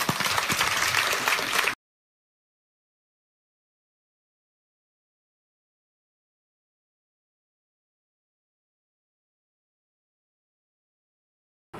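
Church congregation applauding in a short burst of under two seconds, fairly full and close, then cut off abruptly into silence.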